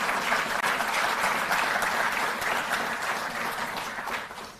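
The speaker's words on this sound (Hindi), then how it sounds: "जोरदार तालियां" Loud, sustained applause from a large crowd at a Delhi government ceremony honouring Olympic athletes, steady clapping filling the whole stretch and fading slightly at the end.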